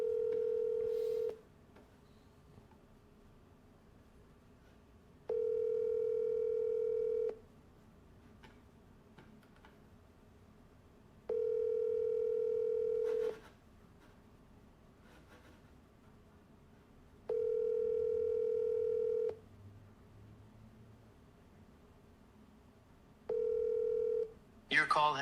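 Ringback tone of an unanswered outgoing phone call, a steady electronic ring repeating five times in long even pulses with quiet gaps between, the last one cut short, faint and close on the line.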